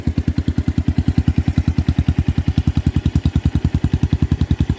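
A TVS Rouser 180 motorcycle fitted with an Akrapovic M1 exhaust idles close by, its open pipe popping in a fast, even, loud thumping beat with a slightly leaky, hissing elbow joint.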